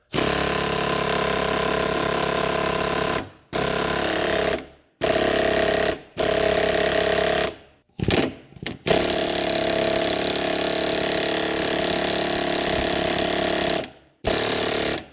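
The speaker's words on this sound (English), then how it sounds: "It is an impact wrench in air ratchet form." A pneumatic impact wrench in air ratchet form hammers at suspension bolts on a 2006 Subaru Forester during control arm and stabilizer link work, loud and close, running in long sustained bursts broken by brief pauses.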